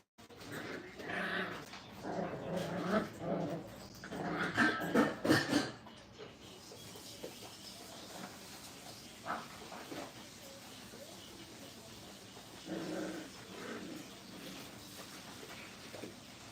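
Five-week-old puppies in a crate kennel growl, yip and whimper in scattered bursts, busiest early on, then sparse and quieter later over faint room noise.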